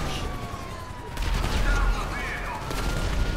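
Gunfire in GTA Online, bursts of shots and a fusillade amid game sounds and a siren-like tone, mixed under voices talking.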